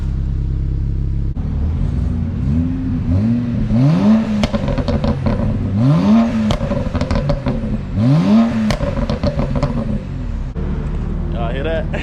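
A BMW 335i N54 fitted with VRSF catless downpipes accelerates hard through several rising pulls, its engine note climbing and dropping between shifts. Loud and close, with a raspy exhaust rumble and voices briefly heard alongside.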